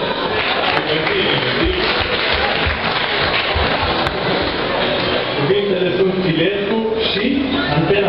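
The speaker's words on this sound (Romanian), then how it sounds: "Aplauze, aplauze." Dense, sustained audience applause at a Dragobete love-declaration contest, steady clapping from a large crowd filling the whole stretch with voices mixed in.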